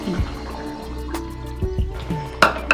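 Water poured into a pan of ivy gourd masala curry gives a few soft splashes and gurgling drips, with small irregular liquid bursts near the start and end, close and fairly quiet, no voices.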